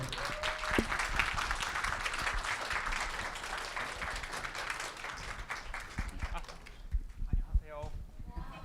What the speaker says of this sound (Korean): 큰 박수로 맞이 한번 해주세요